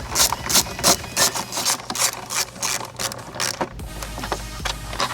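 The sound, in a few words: 10mm socket wrench removing Jeep Wrangler engine cover bolts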